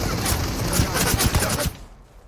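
Rapid automatic gunfire in the video game Super People rattles off in a dense, loud burst of closely spaced shots, then cuts off and fades near the end.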